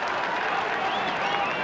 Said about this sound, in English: this crowd getting plenty to cheer about